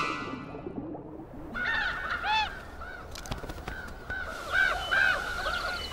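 Common ravens call repeatedly from a riverside landscape, their harsh croaking and honking notes coming in short bursts over steady background noise, fairly close and clear.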